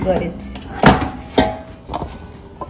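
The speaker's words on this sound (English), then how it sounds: "here I have my insignia air fryer. I pull the drawer out" An Insignia air fryer drawer pulled out, giving a couple of short plastic thunks and a sliding clunk, close and fairly soft, with a person speaking around the sounds.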